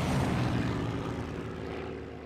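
A loud aircraft engine drones steadily as the craft flies in the video game Knack, a dense, rumbling roar that eases off slightly toward the end.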